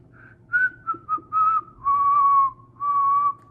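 A person whistles a short, clear tune up close, several sustained notes with small pitch slides and brief gaps between phrases.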